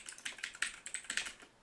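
Quick bursts of typing on a computer keyboard, a dozen or so close, crisp key clicks in uneven clusters, alone with no talk.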